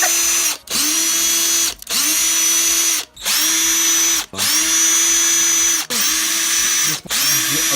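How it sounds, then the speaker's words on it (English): A power screwdriver backs T10 screws out of an Xbox 360 console, running in about six steady whirring bursts with short pauses between, close and loud. "take the rest of the T10 screws out"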